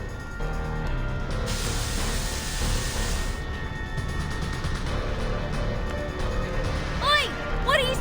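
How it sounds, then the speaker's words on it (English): Spore spraying in the game Reverse 1999, a loud steady hiss of spray lasting a couple of seconds amid game music and effects, followed by chirpy sounds. "What are you spraying? I'm still here! Hey! This is just some spores, Miss Desert Flannel."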